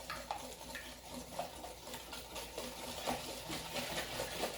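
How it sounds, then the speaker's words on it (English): Sugar mixture being whisked by hand in a bowl, with quick, rhythmic scraping taps of the whisk repeating steadily at close range. "Just gonna whisk this together."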